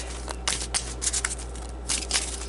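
Gypsy oracle cards being shuffled by hand, several quick riffling bursts close up, with short pauses between them.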